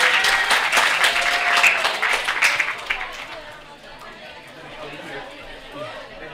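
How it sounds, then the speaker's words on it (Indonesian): An audience at a school event at MAN 22 Jakarta applauds to welcome a speaker: loud, dense clapping mixed with crowd chatter, fading after about three seconds into quieter murmuring. "kita sambut dengan tepuk tangan yang meriah narasumber kita, Bapak Pepen Kuswandi"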